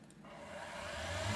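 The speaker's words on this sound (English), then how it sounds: "I'm gonna run the spindle up here," A CNC machine spindle runs up to speed, its whirring tone climbing steadily in pitch and growing louder over a second or so, with no voices.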